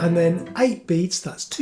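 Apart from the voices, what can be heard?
No everyday noise stands out behind the speech.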